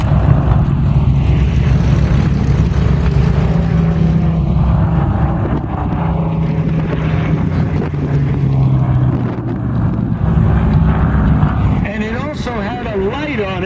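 A P-63A warplane makes a photo pass at a World War II Weekend airshow, its engine a steady, loud drone heard throughout beneath continuous announcer commentary.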